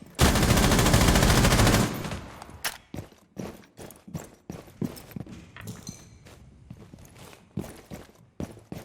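Sustained automatic gunfire in an esports shooter video game opens with a dense burst, then breaks into scattered single shots and quick footsteps at a close, punchy level.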